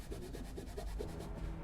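Someone rubs a hand or mouse across a rough mouse pad in quick back-and-forth strokes, making a close, quiet gritty scraping much like sandpaper on wood, repeated about ten times.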